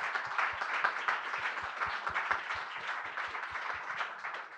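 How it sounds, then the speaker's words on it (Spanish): Audience applauding the winner of a future-promise category at a tourism data summit, steady dense clapping of moderate loudness, with a few sharper claps standing out. "Sí, un aplauso para él."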